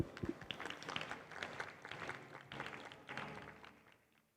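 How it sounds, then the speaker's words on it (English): Audience applause for the judges at a startup competition stage event, a moderate burst of clapping that gradually thins and fades out by the end. "Let's give them a big round of applause for their dedication."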